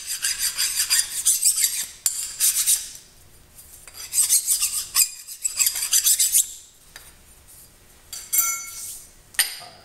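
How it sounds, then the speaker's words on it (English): A hand file rasps a burr off a machined metal shim part in repeated close, loud strokes separated by short pauses, with a light metallic clink near the end. "let me file that burr off there just a little bit"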